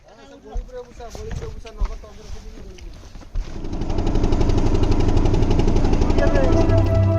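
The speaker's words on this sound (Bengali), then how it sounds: "এই তো আমাদের বোট চলে এসেছে" A motor boat arriving on a river on the Odisha coast to ferry passengers toward Hukitola island: voices come first, then the engine starts a loud, close, rapid chugging drone that holds steady to the end.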